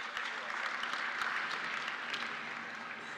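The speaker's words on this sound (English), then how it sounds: "Please let's welcome all of them with a round of applause." An audience claps in a sustained round of applause welcoming state house speakers at a legislative plenary session, dense and even clapping holding steady from start to finish.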